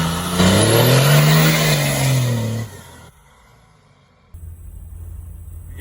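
Close Cummins diesel truck engine roar rising and falling in pitch with a high whistling turbo spool sweeping up, then cutting off abruptly into a low idle hum.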